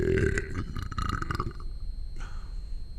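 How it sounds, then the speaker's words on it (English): A man belches loudly and long after drinking a carbonated beverage, a deep croaking burp up close, followed by a shorter second gulp-like burp over a steady background hum. "Because I belch."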